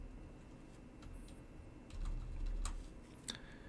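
Sparse, soft keyboard clicks tap irregularly over low background hum, close by but quiet.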